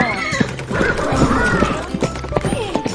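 A toy horse on wheels lets out an electronic neigh and whinny with clip-clop hoof sounds, loud and close, while a voice talks over it in a home playroom.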